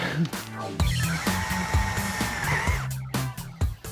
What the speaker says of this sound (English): Daniel decides to take the riskier approach of drilling through the frame into the leg.